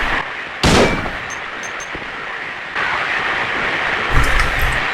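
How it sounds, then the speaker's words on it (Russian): A single loud gunshot fired at Pyramid Head in Silent Hill 2, a sharp blast with a short decaying tail over a dark, rumbling ambient background, followed later by a duller heavy impact burst. "Давай-ка я в тебя выстрелю."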